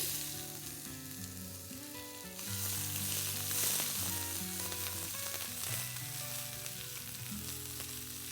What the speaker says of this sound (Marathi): तेल छान गरम झालंय, मी मोहरी टाकते